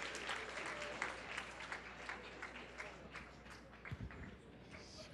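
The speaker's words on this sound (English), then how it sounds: "You can keep clapping for him." Conference audience at a youth event clapping as a speaker walks up onto the stage, fairly faint and scattered applause with a few louder knocks near the end.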